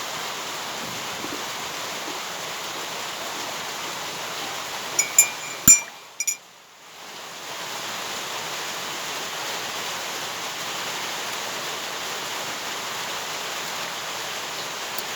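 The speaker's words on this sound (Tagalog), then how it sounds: "Hindi na tumigil yung ulan mula kanina." Steady morning rain hiss fills the air, a soft continuous wash briefly interrupted by a few clicks and a short dip before resuming evenly.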